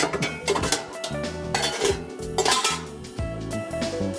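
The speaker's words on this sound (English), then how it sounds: "It's important also that you've got a big enough bowl to mix this stuff in, so I'll get that out and ready to go." A large mixing bowl is taken out and set down in a home kitchen while making Thai glass noodle salad, with several clattering knocks and clinks of dishes at close range.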